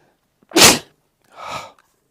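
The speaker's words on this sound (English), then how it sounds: "I'm going to sneeze though." A person sneezes twice in close succession, a loud sharp burst followed by a softer second sneeze, near and alone with no talk.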